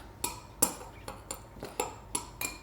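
A spoon mixing baking powder into batter in a bowl gives six or seven evenly spaced clinks and scrapes against the bowl, close and fairly quiet.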